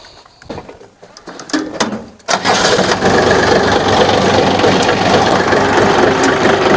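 A homemade mini tractor engine cranks with a few uneven bursts, then catches abruptly and settles into a steady, loud idle that runs on evenly to the end.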